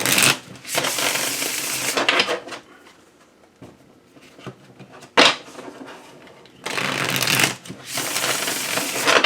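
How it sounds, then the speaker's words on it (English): Two bursts of card shuffling, a riffle at the start and another near the end, separated by quieter handling and a sharp snap in between. "So I'm going to shuffle again."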